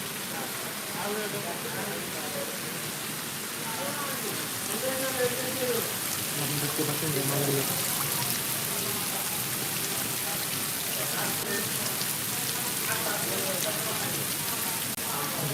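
Rain falls steadily over a fish farm where tilapia and shing fry are kept, a constant broadband patter under a voice speaking through much of the passage.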